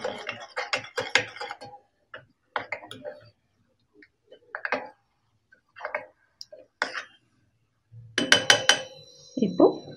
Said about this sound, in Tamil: நல்லா மிக்ஸ் பண்ணி